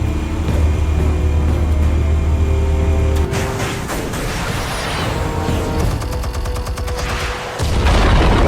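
Explosives detonate in a dense run of booms and crackling blasts, like gunfire and artillery, over a constant low rumble, loud and sustained with a brief dip near the end.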